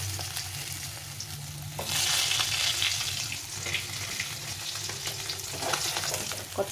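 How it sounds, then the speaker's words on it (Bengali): Pieces of bata fish frying in oil give a constant crackling sizzle that swells louder after a moment as they are stirred and flipped, with scattered pops and no voices. "এইভাবে পাল্টে পাল্টে লাল করে ভেজে নিতে হবে,"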